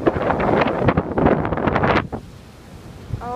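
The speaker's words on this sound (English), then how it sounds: "It's very windy everywhere" Strong typhoon wind blowing outdoors, gusting loudly against the microphone in roaring bursts for about two seconds before easing to a softer rush.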